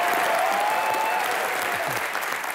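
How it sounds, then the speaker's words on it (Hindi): A television comedy studio audience gives loud, continuous applause, a dense, even roar of clapping that fills the whole stretch with little else behind it. "जिसके लिए जोरदार तालियां सर"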